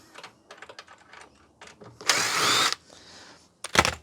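A screw being removed from a Fisher & Paykel condenser dryer during a teardown: light scattered clicks and taps, then a loud power driver whir of under a second, followed by a short burst of rattling near the end, up close.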